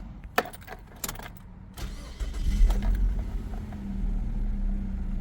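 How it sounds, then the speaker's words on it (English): A Mazda 626 with about 70,000 miles runs with a quiet, low engine hum that rises after a couple of faint clicks and a thump, then settles into a steady, soft drone close by. "Let's have a listen to this car's engine."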